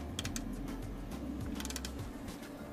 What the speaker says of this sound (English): Make sure both bolts are nice and tight and that the cage is secure.